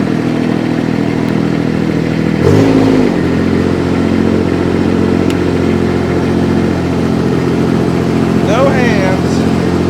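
Baumalight 630D machine with its engine running steadily, a loud continuous drone with a short surge partway through, while people talk over it.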